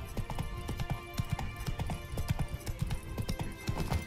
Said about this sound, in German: Geralt, bitte einmal wieder aufs Pferd drauf.